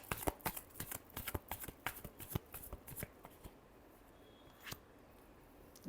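Tarot cards shuffled in the hands, a fast run of crisp riffling flicks and taps for several seconds, then a pause and one last flick, close and fairly quiet with no talk.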